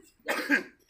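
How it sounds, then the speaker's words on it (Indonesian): A single person coughs once close by, a short, raspy double-pulsed burst in an otherwise quiet moment. "kalau kita batuk"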